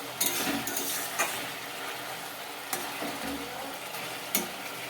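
Egg chilli simmering in a pan, a steady soft bubbling sizzle with a few sharp scraping knocks of a spoon against the pan.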